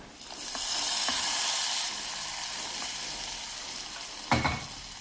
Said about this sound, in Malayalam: കടുക് വറുത്തത് കറിയിലേക്ക് ചേർക്കാം